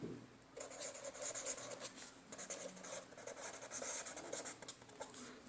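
Pen writing steadily on paper during a fifth-grade maths lesson, a continuous soft scratching with short strokes and small pauses, close and fairly quiet, with no talking.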